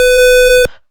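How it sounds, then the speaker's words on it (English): Electronic buzzer on a snake and ladder game circuit sounds once, a loud steady tonal buzz for about two thirds of a second before cutting off abruptly. "when player 1 or 2 comes 15, then buzzer will turn on"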